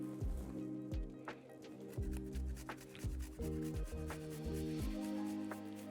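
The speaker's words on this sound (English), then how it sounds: "I think I want to put a little bit of garlic in here. So I'm going to use my grater again." A garlic clove rubbed over a kitchen grater, a series of rhythmic rasping scrapes in short strokes, close and fairly quiet, heard alone.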